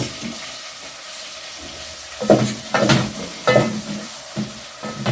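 Onion and tomato fry in a pan with a steady, moderate sizzle, broken by several louder scraping stirs in the second half, with no voices.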